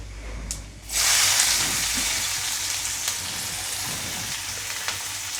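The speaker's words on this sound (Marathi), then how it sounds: "कांदा चांगला फ्राय करून घेऊया" Chopped onion with garlic, cumin, mustard seeds and curry leaves sizzles steadily in a hot pan, a loud continuous frying hiss that starts abruptly and carries on with faint occasional stirring.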